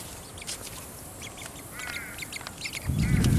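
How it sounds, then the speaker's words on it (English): Scattered bird calls and quacks at a moderate distance over outdoor ambience in Brisbane, with a rumble of wind or movement rising at the end. "Hello, birds."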